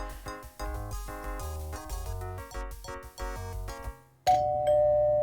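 Doorbell in the video game Gabriel Knight, a loud two-tone chime ringing out clearly after a stretch of background music, near and alone.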